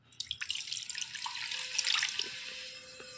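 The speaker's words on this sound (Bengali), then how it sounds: "এবার মহাদেবকে স্নান দিয়ে নেব" Water is poured over a Mahadev idol to bathe it, giving a close, soft splashing and trickling stream with scattered drips, fairly quiet and without talk.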